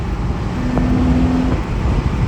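Acura Type S car engine running nearby, a loud steady rumbling drone with road noise and a brief higher tone in the middle.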